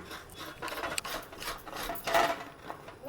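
A halved coconut is grated by hand, giving repeated rasping scrapes in uneven strokes, close and moderately loud, with no voices.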